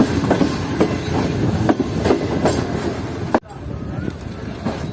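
The Karakoram Express pulls into Kotri Junction station, wheels clacking in a steady rhythm over rail joints, loud and close, before an abrupt shift to quieter rolling noise.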